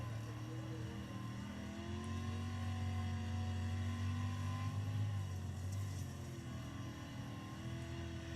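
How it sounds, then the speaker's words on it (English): A dirt street stock race car engine runs wound out at high revs during a race at Kokomo, a continuous droning roar with steady harmonic whine that shifts slightly in pitch, heard from a distance. "So you can hear Anthony's car a little bit more wound out than what Zachary Loomis is"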